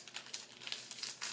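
Paper being folded into a paper airplane, a quick run of soft crinkles and creases close by, brief and fairly quiet with no voice over it.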